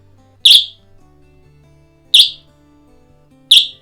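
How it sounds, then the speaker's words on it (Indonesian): A safety alarm on a Japanese children's randoseru school bag sounds after its button is pressed, giving three sharp, piercing chirps spaced well apart, loud and close against near silence. "Bunyi alarmnya seperti apa kita coba sebentar ya."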